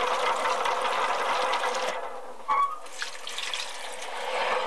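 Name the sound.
washing ume plums under running tap water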